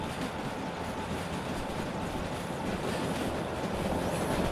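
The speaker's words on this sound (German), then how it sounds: "Ja, mal diesen Zug da bewundern." A train rolls steadily along the rails in the railway simulator game Derail Valley, its broadband rumble and wheel noise constant and fairly loud throughout, with no speech.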